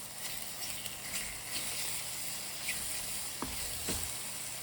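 Butter sizzles softly in a pan with Caesar mushrooms, a steady low frying hiss with a few sharper crackles and pops near the end, no voices.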